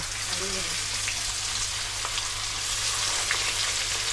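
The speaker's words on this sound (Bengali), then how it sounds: "চিকেনের পিসগুলো আমি এপিট ওপিট একদম উল্টে লাল করে ভেজে নেব।" Chicken pieces frying in hot oil for biryani, a dense, even sizzle that runs steadily throughout, close up, with a faint low hum underneath and no talking.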